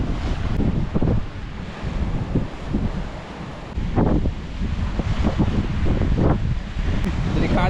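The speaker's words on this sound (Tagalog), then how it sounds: "Malakas yung hampas ng alon." Strong ocean waves pound the shore in heavy surges under gusty wind buffeting the microphone, a loud continuous roar with swelling crashes.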